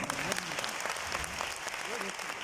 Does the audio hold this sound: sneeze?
no